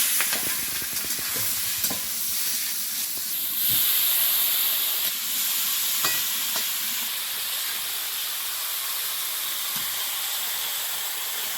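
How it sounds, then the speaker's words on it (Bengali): Prawns frying in oil in a wok, a continuous loud sizzle and hiss with occasional stirring scrapes, steady throughout with no voices. "এপাশে একটা কড়াইয়ে তেল দিয়ে চিংড়ি মাছগুলো দেবো"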